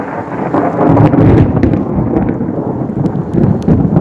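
Steady heavy rain with rolling thunder rumbling throughout, loud and close, no voices.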